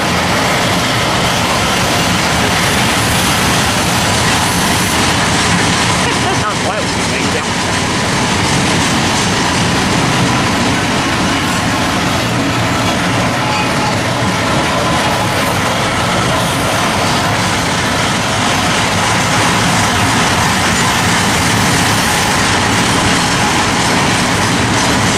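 A freight train led by a CP locomotive rolling through Fullerton, a loud, continuous roar of wheels and cars passing close by, with rhythmic clatter and some faint wheel squeal throughout.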